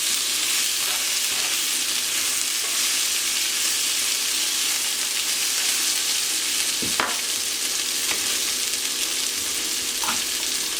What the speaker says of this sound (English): Let's just mix all this up